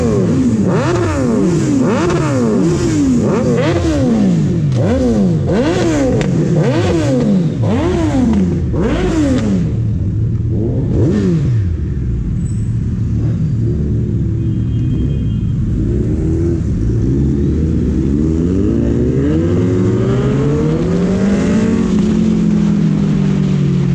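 Several sport motorcycles, including a Hayabusa, Intruder and Z800, ride out together at night toward Nandi Hills near Bengaluru, engines loud and close, revving up and down repeatedly with shifting pitches, then settling into a steady drone.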